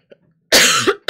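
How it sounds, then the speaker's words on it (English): A single sharp cough bursts out close by, followed by a second short cough, with a faint throat sound just before. "Oh, excuse me, I have a cough."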